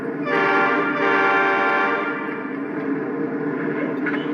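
A loud, sustained horn sound effect from a Lionel model diesel locomotive blares steadily for several seconds, close and unbroken, with a rich multi-tone chord.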